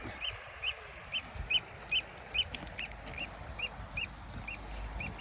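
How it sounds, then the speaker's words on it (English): Nesting birds calling repeatedly in short honking bursts at a steady rhythm, some distance away, over a soft outdoor background beside a fjord in Iceland. "all the nesting birds you can hear"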